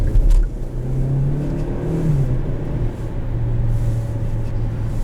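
A 2017 Hyundai Santa Fe Sport with the 2.0-litre turbo engine accelerates in second gear, a steady, loud low engine drone holding throughout with a faint rising whir.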